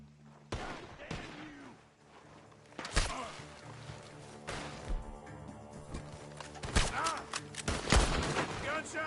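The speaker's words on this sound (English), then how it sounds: "Gunshots are coming from that bar!" Gunfire in Red Dead Redemption 2 erupting from a bar: loud, sharp shots in irregular bursts and volleys, some close and crashing, over a busy scene with shouting voices and scattered thuds.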